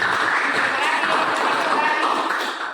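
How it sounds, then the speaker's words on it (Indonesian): Students in a classroom clap together loudly in a thick, continuous burst that fades slightly at the end, with voices mixed into the clapping. "Oke, tepuk tangan."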